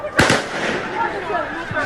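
Police firing gunshots into the air during a stone-pelting clash: one sharp, loud bang near the start and a softer report later, set against a murmuring crowd and distant voices.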